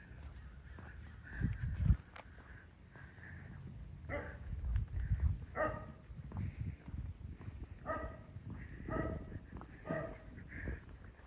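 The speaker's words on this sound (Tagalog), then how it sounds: "Aso ng aming kapitbahay." A neighbour's dog barks in a series of sharp, repeated yaps at moderate distance outdoors in a community park, with some low rumbling background noise between the barks.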